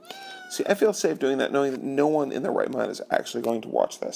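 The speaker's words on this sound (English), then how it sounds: "That's my cat." Cleo the pet cat meows in short repeated cries woven through a person's steady talking nearby.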